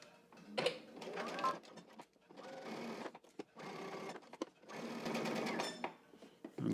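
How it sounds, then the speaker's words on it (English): A home sewing machine stitches pleated pants from the top down to a marking, whirring in several bursts separated by short pauses, close and fairly loud. "we're going to go to machine and we're going to stitch starting from the top and down to our marking"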